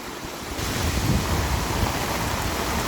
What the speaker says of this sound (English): It is millions of liters of water I can see falling now at a very high intensity.